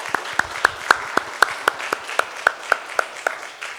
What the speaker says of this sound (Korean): 우리 이분들을 위해서 감사의 박수 함께.